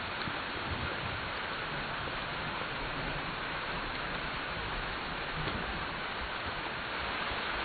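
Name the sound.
rain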